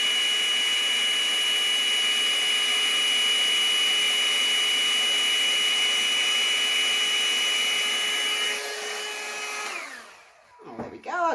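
A steady, high-pitched electric blower whines continuously over wet paint on an art piece, then cuts off and winds down near the end.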